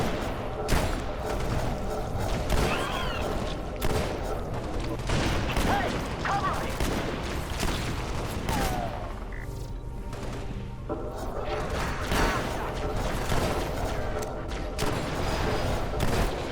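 Shotgun blasts and other combat noise in Halo: Spartan Assault, with repeated sharp bursts and booms scattered through a busy, continuous mix of gunfire and impacts, with no talking.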